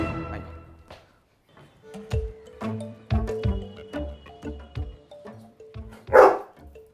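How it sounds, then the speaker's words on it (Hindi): A dog barks indoors in a series of sharp, irregular barks, close and fairly loud, ending with one louder, harsher bark. "है ये क्या? कुत्ता? मेरे घर में कुत्ता नॉट अलाउड।"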